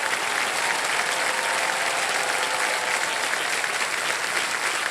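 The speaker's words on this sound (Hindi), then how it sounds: "तालियां बज जाएं इनके लिए।" Steady, dense applause from a TV quiz show studio audience fills the whole stretch, loud and continuous with no breaks.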